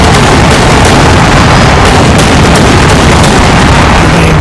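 The main cannon of a tank in the video game Eternal Crusade fires, a very loud, saturated, rumbling blast and roar of explosions that dominates the entire stretch without any talk.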